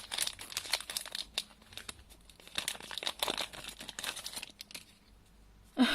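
A Wankul trading card pack wrapper crinkles and tears in close, quiet bursts of crackling foil, with a sharper rustle near the end.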